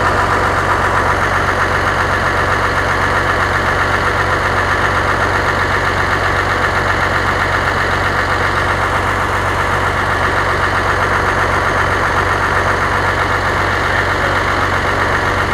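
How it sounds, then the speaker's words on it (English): An engine idling after a valve adjustment runs with a constant, loud, even drone and a light ticking under it, close up with no talking. "Them valves must have been either really tight or really loose before, because it sounds a whole lot quieter"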